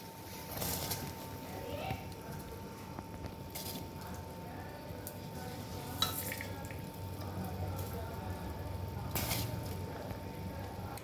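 Rice tipped into a pot of rolling boiling water for homemade vegetable biryani, in a pressure cooker in a home kitchen; soft steady bubbling and sizzling runs throughout, with a few brief clinks and splashes, fairly quiet.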